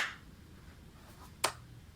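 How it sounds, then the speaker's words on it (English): A single sharp hand clap, made to sync audio before a book club recording, rings out once in a quiet room, brief and fairly close, with a faint noise just before it. "we do need to sync audio, so I'm gonna need you to clap"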